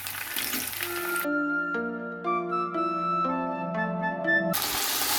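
Onions, garlic, ginger, chilli and spices sizzle in a pan with a splash of water, loud at the start and end, with a stretch of gentle melodic music in between.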